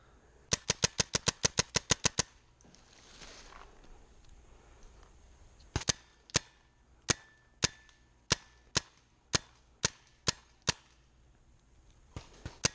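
Paintball markers fire during a woodsball game in the woods: a rapid string of sharp pops, a short pause, then slower, evenly spaced single shots, fairly close.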